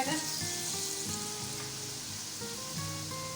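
Oil heats in a separate frying pan with a pinch of salt, waiting for turmeric-coated eggs for an egg curry. It gives a steady, even sizzle throughout, with faint tonal background music running beneath it.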